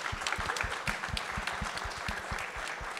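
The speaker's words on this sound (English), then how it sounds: "So, big round of applause for all three of them." Steady applause from a conference audience at TiEcon Delhi 2023, many hands clapping densely and evenly throughout, with no voices standing out.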